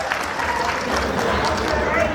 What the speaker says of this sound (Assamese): এইখন অনুষ্ঠান সাফল্যমণ্ডিত কৰাৰ বাবে সকলো এটা জোৰকে হাত চাপৰি মাৰিব লাগে